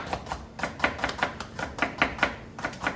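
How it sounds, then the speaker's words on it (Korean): Onion and other vegetables being chopped with a knife on a board, a quick irregular series of sharp close taps in steady rhythm, with no talk. "양파, 참나, 야채들 손질을 좀 해볼게요"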